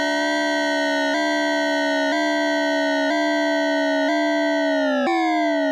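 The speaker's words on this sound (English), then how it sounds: "So here the LFO is controlling shape. This is what that sounds like on pitch." A loud, sustained synth tone whose pitch sags downward and then snaps back up in a steady LFO cycle, about once per second, playing on its own.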